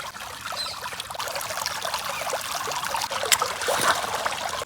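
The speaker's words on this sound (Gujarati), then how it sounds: "એકદમ નાનું ઝરણું વહે છે." A very small village stream trickles and pours steadily at close range, a soft continuous babble with no voices over it.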